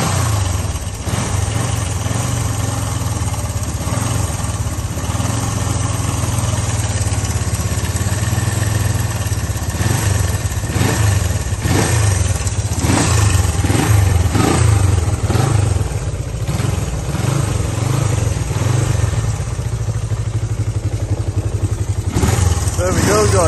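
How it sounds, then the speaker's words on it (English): A 1974 Honda CB250 motorcycle engine idling with a steady throb and several throttle blips that rise and fall, loud and close, with voices now and then underneath. "The Honda CB250"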